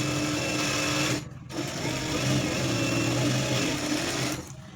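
A sewing machine stitches a folded blouse lining in steady, fast, close, mechanical running bursts, with one short pause partway through and another near the end.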